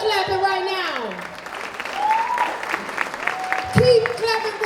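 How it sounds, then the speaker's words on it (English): Audience clapping at a Kings vs Queens poetry showcase at a comedy club, a lively crowd applauding steadily under an emcee's amplified voice and sung or drawn-out calls. "Keep clapping right now."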